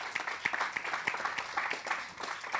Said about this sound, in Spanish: Somebody just clap your hands to the Lord.